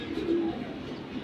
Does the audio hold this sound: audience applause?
no